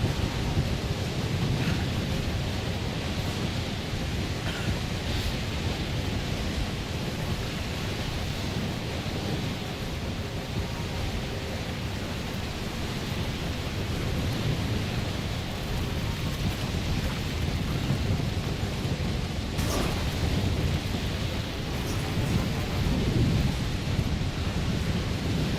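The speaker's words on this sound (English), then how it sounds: "Cause this feels like a pretty big storm." Heavy thunderstorm in the video game Death Stranding: steady dense rain hiss fills the whole stretch, with rolling thunder rumbles and a sharp crack near the end, no voices.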